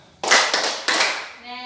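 Schoolchildren in a classroom clap in unison during a chant, making two or three loud collective claps amid their voices.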